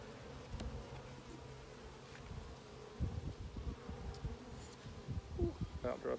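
Honeybees buzz around an open beehive during an inspection, a faint, continuous hum with light knocks and handling sounds that grow busier toward the end.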